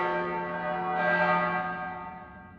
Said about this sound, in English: Did you ring the bell?